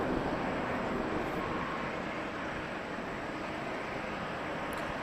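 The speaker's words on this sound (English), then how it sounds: "a 777-300 ER. Our first 777-300 of the show." A Boeing 777-300ER airliner at Toronto Pearson airport, a steady broad engine roar at moderate distance holding evenly throughout, with no voices.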